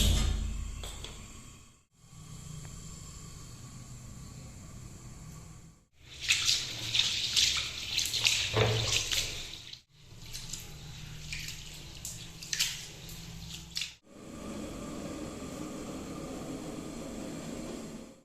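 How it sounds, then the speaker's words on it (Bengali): Water runs and splashes in bursts while a large cooking pot is washed, with loud gushing stretches broken by short pauses and a steadier flow near the end, close up and without talk. "বড় ডেকচি এনেছি একটা, সেটা ভালোভাবে ধুয়ে জল চাপিয়ে দেবো দেখি গ্যাসে"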